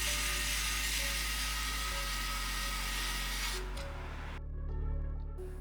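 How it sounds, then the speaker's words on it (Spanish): A small electric screwdriver whirs steadily, backing eight screws out of a Luminkey60 keyboard case with short pauses between runs and a final brief stop. "Vamos a separar las dos partes de la caja retirando los 8 tornillos."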